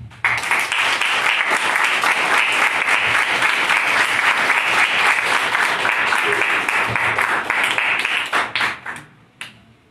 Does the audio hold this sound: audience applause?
yes